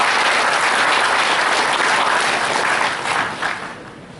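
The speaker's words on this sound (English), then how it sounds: "Please, a round of applause for him." Loud, sustained applause from an audience at a university banking and finance department event fills the hall for several seconds, then tapers off toward the end.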